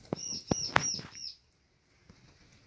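Bar-winged prinias (ciblek) in a breeding aviary give a few sharp, high chirps in quick succession close by, followed by near silence and faint ticks.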